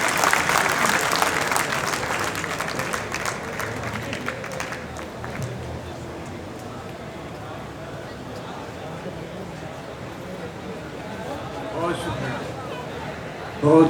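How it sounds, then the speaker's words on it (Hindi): A room of audience members claps at the start, the applause fading within a few seconds into a quieter room with murmuring and a speaking voice, then a brief swell of clapping near the end. "ये तालियां फिर भरपूर नहीं है"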